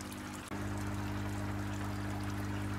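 Steady rush of water poured from a container beside a koi pond, continuous and close, with a low mechanical hum of pond equipment underneath and a brief dip near the start.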